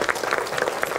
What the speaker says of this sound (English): let's send Sean off with a clap